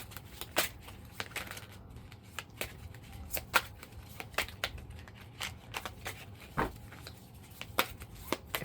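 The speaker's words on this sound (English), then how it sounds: "when I'm shuffling this, it's like they don't want to shuffle in some way" Tarot cards being shuffled by hand, close and soft: a sequence of quick riffling flicks and papery slaps at an irregular pace, with short pauses between bursts and no voices.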